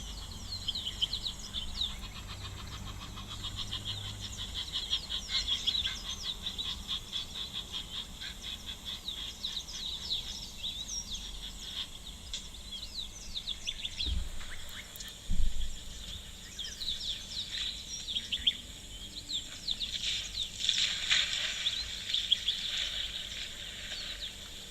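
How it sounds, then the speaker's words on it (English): Birds chirp and call faintly in the distance in the African bush at a waterhole, against a quiet outdoor background. The calls are scattered and steady, with no voices. "listen to all the birds calling around us."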